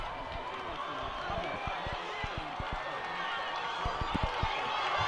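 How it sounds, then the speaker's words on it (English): Crowd noise at a high school football game between Osseo and White Bear Lake, a broad steady roar from the stands with scattered thumps and claps, while a commentator talks over it. "Crowd getting loud here on 4th down and goal"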